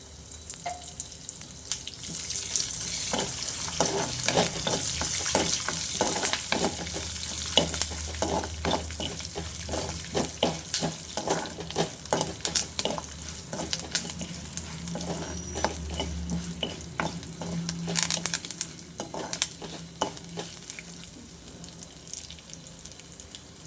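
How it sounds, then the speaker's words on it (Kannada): Oil sizzles and crackles steadily as mustard seeds, urad dal, chana dal, curry leaves and dried red chillies fry in a pan, with stirring clinks and popping bursts over a continuous hiss, no voices. "ಈಗ ಒಗ್ಗರಣೆಗೆ ಸಾಸಿವೆ, ಉದ್ದಿನಬೇಳೆ, ಕಡಲೆಬೇಳೆ, ಕೊರಬೇವು, ಒಣಮೆಣಸಿನ್ಕಾಯಿ ಎಲ್ಲ ಹಾಕೋತಾ ಇದ್ದೀನಿ"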